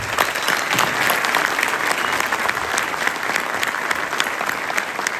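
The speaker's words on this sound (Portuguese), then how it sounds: "Então eu sempre começo pedindo uma salva de palmas para vocês." Audience applause at SemanÁudio 2023, an audio event in Brazil. Steady, full crowd clapping holds at an even level from start to finish with no talk.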